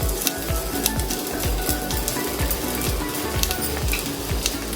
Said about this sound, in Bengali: এটা মোটামুটি ভাজতে একটু সময় লাগে।